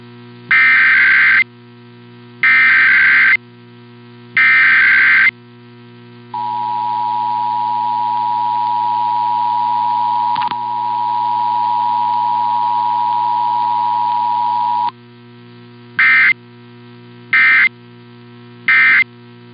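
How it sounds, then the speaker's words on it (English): An Emergency Alert System attention tone sounds during an Arizona required monthly test: loud buzzing data bursts, then a long, steady, piercing tone of about eight seconds, followed by more short bursts. "This is a test of the emergency alert system."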